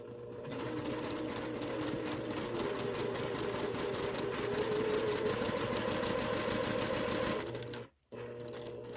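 A sewing machine stitches fabric in one fast, steady run of rapid needle strokes for about seven seconds, then stops abruptly. It is close and moderately quiet, and a few more stitches start up briefly afterward.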